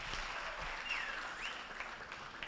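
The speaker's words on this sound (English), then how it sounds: "Can I just give a round of applause to the Dean of Humanities?" An audience at an event claps for the Dean of Humanities with faint, distant, steady applause for a couple of seconds and a few brief voices underneath.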